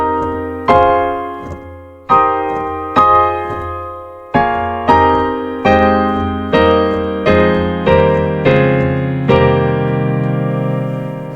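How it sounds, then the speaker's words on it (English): A sequence of rich sustained seventh chords struck one after another on a keyboard, each ringing and decaying before the next, clear and loud with no voices. "how to create and use seventh chords that sound like this in your"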